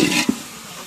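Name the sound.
tomatoes and salt frying in pan for fish biryani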